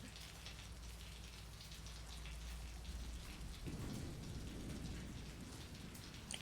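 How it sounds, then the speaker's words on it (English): Rain falling inside a house in the Fatal Frame II Remake video game, a steady dense hiss of rainfall with a low rumbling swell midway, continuous and moderately quiet. "Isn't it weird that it's raining inside the house, but it's not raining when we're outside the house?"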